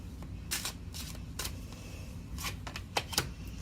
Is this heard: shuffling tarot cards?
yes